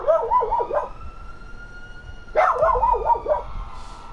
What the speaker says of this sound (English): If you guys hear barking, that's my dog.